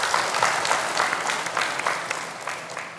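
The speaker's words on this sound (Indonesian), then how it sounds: "Tepuk tangan untuk beliau." Audience applause at an audition in Palembang, a steady wash of many hands clapping at moderate level throughout, with no voices on top.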